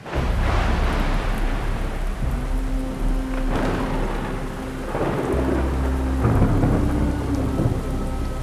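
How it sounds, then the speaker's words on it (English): Heavy rain pours steadily while deep rolls of thunder rumble repeatedly through a stormy sky, loud and continuous with no voices. "There's a storm coming."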